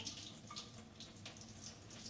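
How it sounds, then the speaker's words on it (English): Cooking water is poured out of a pot into a sink, making a quiet, continuous splashing stream with no voices. "dump the water out that we used to cook them"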